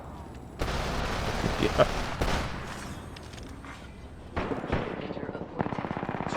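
Bursts of automatic gunfire from the video game Apex Legends, rapid rattling volleys in several loud stretches with brief pauses, while a player speaks briefly over them.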